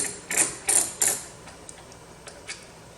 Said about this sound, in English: I have to buy some quieter ratchets